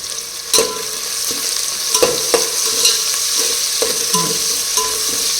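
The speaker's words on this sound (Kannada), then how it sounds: "ಚೆನ್ನಾಗಿ ಫ್ರೈ ಆಗ್ತಾ ಇದೆ" Ingredients for pulao frying in a cooking pot, with a steady loud sizzle under a few sharp knocks and scrapes of a spoon stirring the pan.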